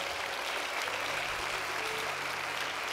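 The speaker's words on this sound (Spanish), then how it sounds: "Alguien aplauda a Dios con fuerza." A church congregation applauds loudly and continuously, a dense, even wash of many hands clapping throughout, with faint voices underneath.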